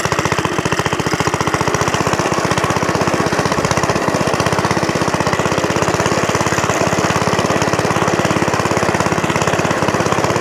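A vintage Suffolk Corporation Mk2 lawnmower engine runs close and loud, a fast, even, rattling single-cylinder pulse that holds steady throughout.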